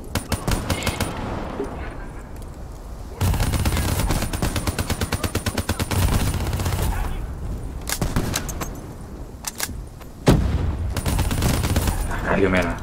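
Enemy gunfire in the Black Ops 3 campaign rattles almost nonstop, dense machine-gun bursts and single shots layered over game ambience, loud and close, with a voice talking over it in places.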